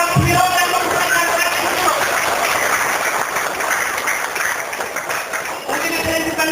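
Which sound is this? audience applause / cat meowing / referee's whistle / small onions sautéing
audience applause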